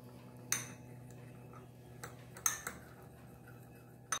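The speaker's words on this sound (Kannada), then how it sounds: "ಇದನ್ನು ಚೆನ್ನಾಗಿ ಮ್ಯಾಶ್ ಮಾಡ್ಕೊಳ್ಳಿ." A spoon clinks against a bowl while ripe mango is mashed for mango shrikhand: a few sharp, sparse taps spaced a second or two apart over a faint steady hum.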